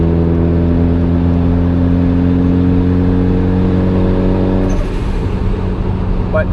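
The turbocharged engine of a Honda Accord runs loud and close for the whole stretch with a steady droning hum, which breaks into a rougher, noisier tone near the end.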